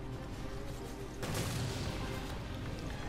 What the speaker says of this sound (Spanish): Grandes explosiones,